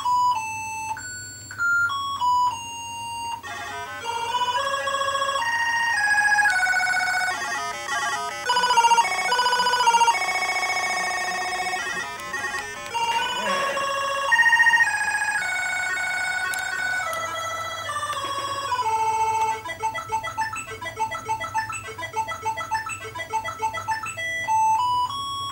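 Song played by an MS-DOS program through a simple beeping synth: quick tinny square-wave tones in a bright melodic run, steady and fairly loud throughout, with no voices.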